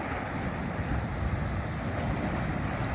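Ocean surf washing onto a rocky coast at sunset, a steady broadband roar of waves with wind buffeting the microphone throughout, no voices.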